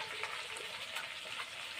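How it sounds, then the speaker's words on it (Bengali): Fish fries in hot oil left over from frying papad, a steady close sizzle and crackle with no voices. "আমি এখানে মাছ ভাজা চাপিয়ে দিয়েছি পাঁপড় ভাজার তেলেই"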